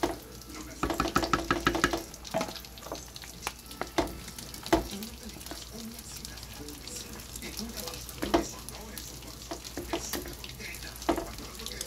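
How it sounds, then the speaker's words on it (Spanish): Cooked rice being stirred and mixed in a pot while it fries, with scraping spoon strokes and knocks over a steady sizzle that run for several seconds, loud and close, with occasional voice in the background. "Movemos bien, mezclamos bien."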